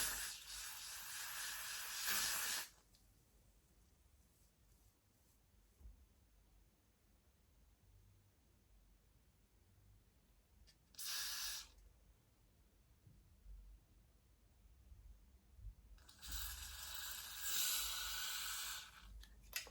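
Spray bottle misting during a hair wig install: three broad hissing bursts of spray, a long one at the start, a short one midway and another long one near the end, with near-quiet room tone between them.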